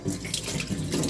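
Tap water running into a sink while oysters are rinsed, a steady close splashing rush that lasts the whole brief moment, with no voices.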